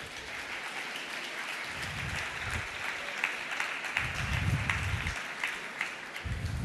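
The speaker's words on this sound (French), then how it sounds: "Je vous demande d'accueillir, d'applaudir Jean-Paul Curtet." A conference audience applauds a speaker, steady moderate clapping from a crowded hall that holds evenly for several seconds with no talk over it.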